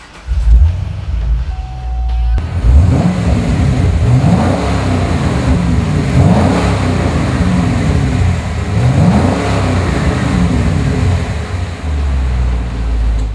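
A 2010 Chevrolet Camaro SS V8 fires up with a sharp start, then settles into a loud, deep idle broken by several rising revs that swell and fall back, close by and with no talking.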